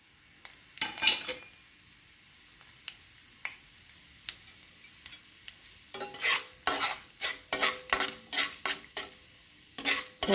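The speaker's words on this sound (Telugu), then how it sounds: "పోపు గింజలు వేగుతూ ఉండగానే" Tempering seeds fry and crackle in hot oil in a pan for egg bhurji, while a spoon stirs and scrapes through them in a rapid, close run of sizzles and clinks after a quieter start.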